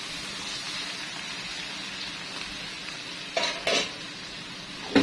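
Onions frying in a pan for an Egyptian tripe and onion casserole, a soft continuous sizzle with a few louder scrapes of stirring near the end, no voices.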